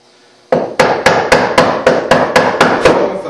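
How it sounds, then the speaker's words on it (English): Repeated sharp mallet strikes on a chisel cutting wood for hand-cut dovetails, about ten evenly spaced knocks, loud and close with no talk. "I want the last cut to be a very thin paring cut. Lay the chisel in the scribe line, lean it forward."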